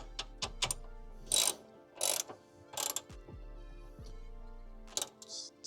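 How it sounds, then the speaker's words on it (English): Bolts on a Cravot CyberRack E2 Plus e-bike rack being tightened, with a series of close ratcheting clicks and metallic mechanical noises in short bursts with brief gaps, with no voices. "Snug it down nicely, but don't torque too hard"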